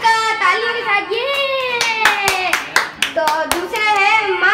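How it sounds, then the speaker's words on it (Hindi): Guests clap in a quick, uneven burst to welcome a child at a home birthday party, with the claps mixed under loud, sing-song voices. "पहले हम वेलकम करते हैं अर्जित का तालियों के साथ"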